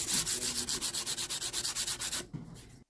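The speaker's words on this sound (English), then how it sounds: "So I'm sanding these frets because I'm going to heat them with solder" Rhythmic back-and-forth sanding strokes on copper-alloy guitar frets, about twenty quick rasping passes, close up, then stopping abruptly.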